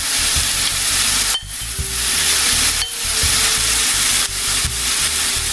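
Mushrooms, onion and chiles fry in hot oil for quesadilla filling, a loud continuous sizzle broken by a few brief dips and soft stirring scrapes, with no voices.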